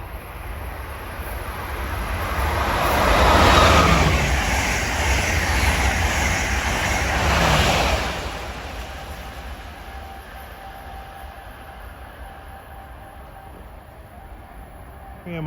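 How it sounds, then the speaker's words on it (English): An Amtrak train bound from Washington to New York passes on a Philadelphia-area line, its roar swelling over several seconds to a broad rumbling peak, then fading into a distant hum. "Oh, here comes our last Amtrak train I'll see here."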